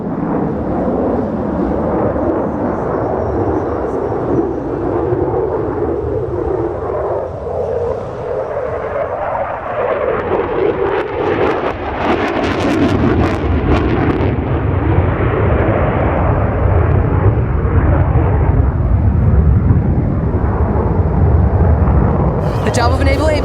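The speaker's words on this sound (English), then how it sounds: "perform a pitch rate demonstration maneuver to showcase the Super Hornet's excellent pitch authority with a brake right 90, immediately followed by an outbound tuck under maneuver" A Boeing F/A-18 Super Hornet at an airshow in London roars through a hard pitch maneuver, a heavy jet rumble that builds into a loud tearing blast mid-way, with a voice speaking over parts of it.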